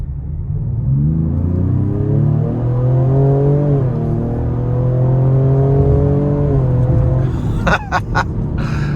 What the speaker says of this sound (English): When you give it throttle, it does sound very aggressive, very sporty